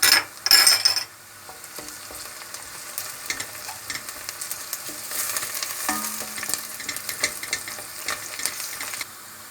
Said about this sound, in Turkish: şimdi salçamızı koyuyoruz ve tekrar kavuruyoruz